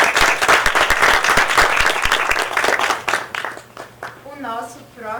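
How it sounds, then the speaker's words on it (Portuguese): Audience applause breaks out at a live talk show, dense clapping filling the first three seconds before thinning out, with a person starting to speak over the fading claps near the end. "vamos dar uma outra salva de palmas para o Sérgio."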